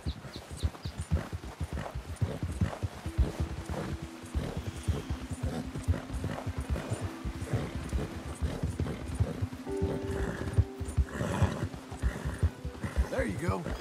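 Horse hooves clip-clop steadily in Red Dead Redemption 2 as the animal walks, with a continuous rhythmic patter of footfalls under ongoing talk and background game sound.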